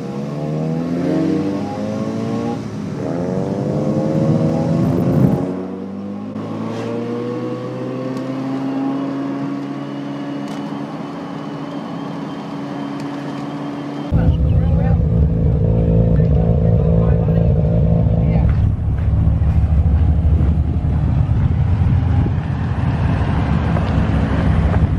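Mazda RX4 with a rotary engine, making about 100 horsepower at the wheels, revving hard above 5000 rpm; a rising engine whine climbs in pitch, then a loud, steady, roaring rev with wind buffeting on the microphone.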